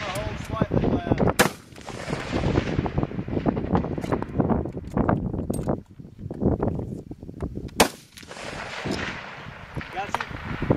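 Rifle gunshots at 1000-yard long-range shooting, sharp loud reports cracking out a few seconds apart over steady wind noise, with people talking between shots.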